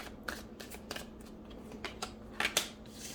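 A deck of Chakra Wisdom Tarot cards is shuffled by hand, giving soft riffles and crisp snaps of card edges in irregular bursts, quiet and close, with a louder pair of flicks near the end.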